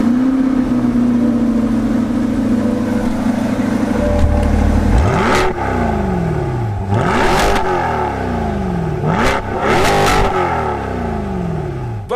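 A Chevrolet Corvette Stingray pushrod V8 revs hard at a drag race launch, with a long steady idle drone followed by three rising full-throttle sweeps as it shifts up through the gears, loud and close with no talking.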